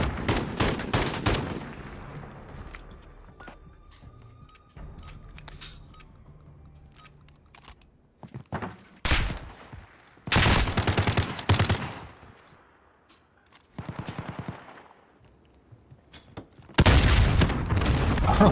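Bursts of Uzi gunfire and a grenade explosion in a 2v2 gunfight video game tournament, sharp rapid volleys separated by quieter gaps, loud and close.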